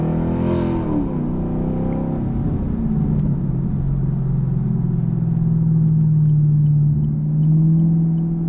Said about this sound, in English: it still has that really good exhaust tone